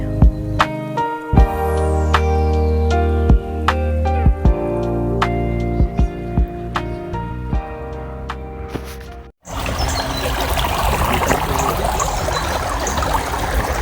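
A small garden stream in Paris with little fish trickles with a steady, close wash of water, heard alone after several seconds of chiming tonal music.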